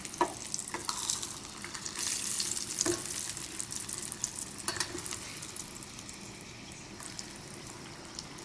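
Chicken-fried ham Spam sizzles in hot oil at a camp cooking setup, a steady crackling fry with scattered sharp pops and stirring scrapes, close and continuous with no talk.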